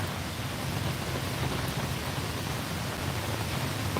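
Steady rain pouring down in Vientiane, Laos on a cool morning, a dense, even hiss of drops with faint low rumbling underneath, continuous and fairly close with no voices.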